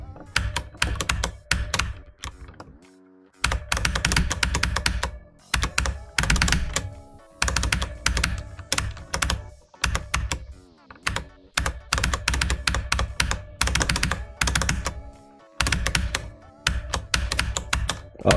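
Rapid, irregular clicking of keys or mouse buttons while playing the rhythm game Geometry Dash, on the Extreme Demon level 8o X. Dense bursts of sharp, close clicks come in quick flurries with brief pauses, and no talking is heard.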